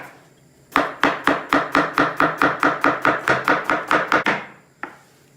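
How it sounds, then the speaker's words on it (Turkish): Rapid, even knife chops through onions on a cutting board, about fifteen sharp strikes in a steady rhythm, close and clear, followed by one last isolated tap. "Hemen soğanları sotelik doğruyoruz."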